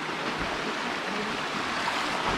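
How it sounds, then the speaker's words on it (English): A waterfall in the Philippines at Barotac Viejo, a loud, steady broadband rush of falling water close by, continuous with no voices over it. "We got a nice waterfall coming in from there."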